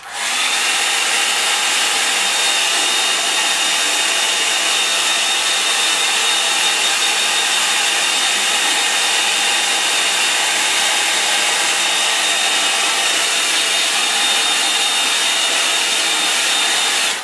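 A hair dryer runs steadily and loudly from start to finish while it dries a watercolour mountain painting, a constant close whooshing blow with no break and no talking.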